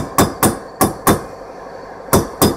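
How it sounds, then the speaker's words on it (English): Sharp metallic hammer taps in uneven pairs, six strikes in all, each ringing briefly before the next blow, seating a front wheel bearing on a 1966 Chevrolet Impala. "Now when it's seated, it should sound a little different when you're tapping."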